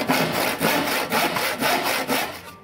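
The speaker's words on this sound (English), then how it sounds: "Just keep cutting corners off and keep cutting corners off until you've got a circle." A saw cutting a circle out of a wooden board, with steady back-and-forth strokes in a quick regular rhythm, close and clear with no talking.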